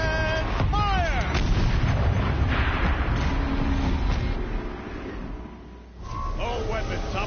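A turret weapon firing in the video game Horizon Zero Dawn, loud heavy booming blasts over a rumbling mechanical bed, with voices talking over it and sharp whooshing sweeps near the start and end.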